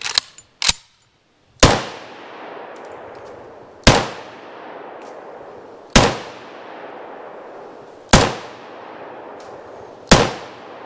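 Wilson Combat ULC Sentinel 1911 pistol fires six loud, sharp shots at roughly two-second intervals, each crack ringing out briefly in an open setting, preceded by a couple of metallic handling clicks.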